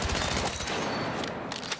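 SMG gunfire at the firing range in Battlefield 6, a rapid dense burst of loud shots with booming low end, fading slightly near the end.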